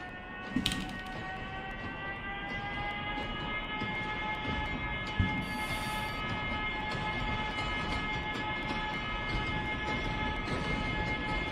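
Trains on a Minecraft NYC subway build keep rumbling along steadily, with a dense low roar, a sustained whining tone and occasional clanks and screeches, continuous and fairly close throughout.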